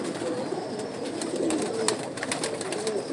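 Pigeons coo softly and repeatedly over a noisy outdoor hiss, with low throaty calls at mid distance and no voices.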